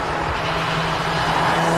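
A GTC race car accelerates at a hill climb, a steady, broad engine roar at a moderate distance, heard alone for a brief stretch.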